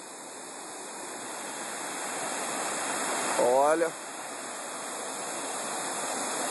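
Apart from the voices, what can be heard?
waterfall sound in a forest stream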